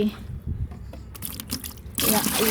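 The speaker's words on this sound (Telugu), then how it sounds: "బకెట్లో తీసుకొని ఒక నాలుగైదు జగ్గులు పోద్దాము" Water from a bucket is poured by the jugful onto brinjal, tomato and ridge gourd plants in an organic home garden, with a short splashing pour rising at the end after quieter trickles, while a person talks.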